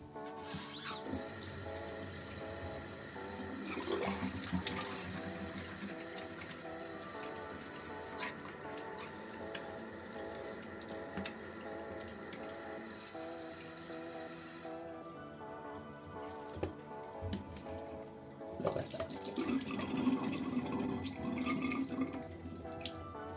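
Water runs steadily through a home radiator panel during a flush, with a continuous splashing, tap-like flow that swells louder near the end.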